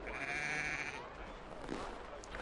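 A sheep bleats in the Assassin's Creed 3 video game, set in Boston, with a short wavering call rising out of soft ambient background and a faint voice nearby.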